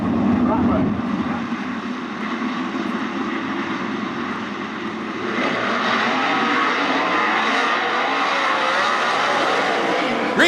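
410 sprint cars racing at Attica Raceway Park during heat races, a loud continuous engine roar that rises as the field passes, with a race announcer talking over it.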